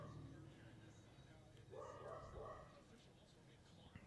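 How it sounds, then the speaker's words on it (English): A dog barks in a house, faint and off to one side, a short burst of a couple of barks under a person's speech. "If you hear my dog barking"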